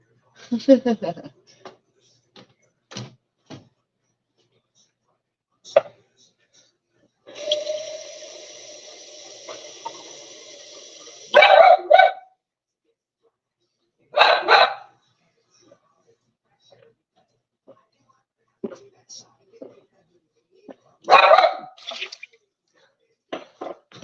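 A big female dog barks in short bursts while being fed dog food, loud close barks separated by gaps, with a person talking to her and water running in the background.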